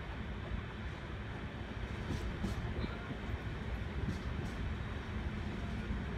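A passenger train running between Delhi and Agra gives a steady, close rumble with a broad rushing roar, continuous throughout with faint higher clicks and squeaks on top.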